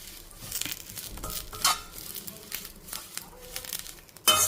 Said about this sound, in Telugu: గలగల సౌండ్ అయితే వినిపిస్తుంది కదా ఇంకా కూడా పచ్చాకుంది అందుకే చిట చిట చిట చిట అంటుంది